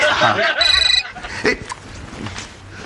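A telephone rings in a domestic sitcom scene, giving a short bright electronic ring burst amid lively voices and background chatter.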